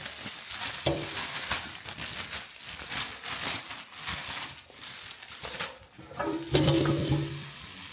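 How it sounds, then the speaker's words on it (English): Rosemary potatoes with garlic granules sizzle and crackle in hot oil, with clattering and a shake of the pan partway through; no voices. "Hear them sizzle a bit."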